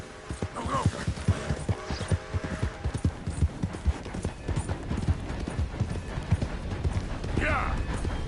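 Hooves of a galloping horse in Red Dead Redemption 2 pound in a steady, close clip-clop rhythm, with a voice speaking over them at times.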